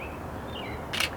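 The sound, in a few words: camera shutter opening and closing quickly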